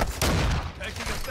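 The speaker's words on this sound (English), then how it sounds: "I'm being shot to pieces." Incoming gunfire strikes the player during a Modern Warfare 2 DMZ match, a dense, loud burst of shots and impacts packed into a brief moment with faint voice underneath.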